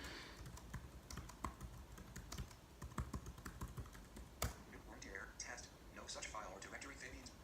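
A password is typed on a Mac keyboard in a quick run of close, crisp key taps. A person talks over the typing toward the end.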